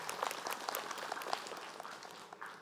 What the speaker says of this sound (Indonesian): Tepuk tangan buat guru kita Habib Muhammad Syahab.